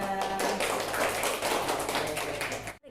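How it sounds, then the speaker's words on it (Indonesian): A classroom audience at a micro-teaching session applauds a student group, with dense, steady clapping filling the room for nearly three seconds before it cuts off abruptly. "Aplaus dong buat kelompok 3"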